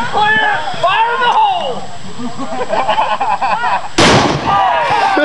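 A guitar rigged to explode goes off in a sudden loud burst near the four-second mark, sharp and broadband. Excited people talk and shout over outdoor background noise both before and after the blast.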